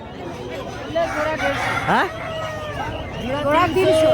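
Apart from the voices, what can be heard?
chickens and roosters at a village market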